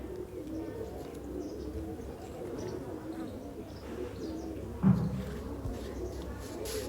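Pigeons and their chicks coo steadily in a loft, a low continuous murmur of overlapping calls nearby, with one brief louder knock partway through.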